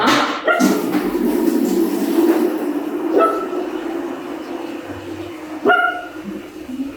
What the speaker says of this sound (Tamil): அவரு நாட்டு நாய் இவர் சிண்டு சிண்டு